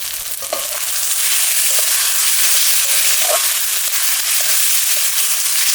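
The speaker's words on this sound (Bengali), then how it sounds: "মশলা কষানোর সময় এই যে মাছের তেলটাও দিয়ে দেব" Masala with chopped tomato frying loudly in oil, with fish oil added, for a Rupchanda fish curry: a dense, continuous sizzle with occasional sharp pops and stirring clicks.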